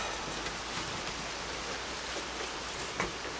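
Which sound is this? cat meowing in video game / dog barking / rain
rain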